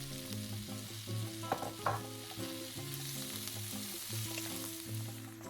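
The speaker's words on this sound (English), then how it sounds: "Fry the garlic and onions until they're fragrant and then add in the peppers and then the" Garlic, onions and peppers fry in a pan for a takeaway-style sweet and sour chicken, giving a steady, even sizzle throughout. Sustained musical tones play over the frying, with a couple of brief louder bursts near the start.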